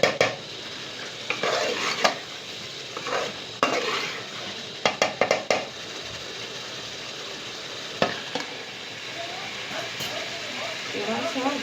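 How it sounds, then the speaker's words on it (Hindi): Ginger garlic paste roasting for Peshawari chicken karahi, with a spoon stirring and scraping the pan in repeated clattering bursts over a steady background hiss, close and fairly loud. "अदरक एंड लहसुन जब भुनने के टाइम हम डालते हैं तो बहुत ही अच्छी खुशबू आती है"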